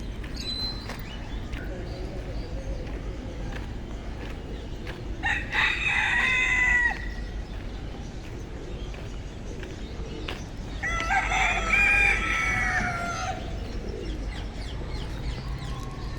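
Roosters and chickens at a bird market in Al-Kakiya, Mecca, Saudi Arabia, with two crowing bursts standing out over steady crowd and market background noise.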